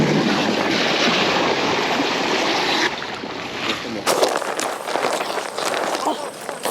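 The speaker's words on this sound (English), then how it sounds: "I'm gonna air it up to get all the water out." An electric blower inflating a water slide bounce house drones as a steady, loud broadband roar. Its tone shifts abruptly twice as the air flow changes, and a voice speaks over it.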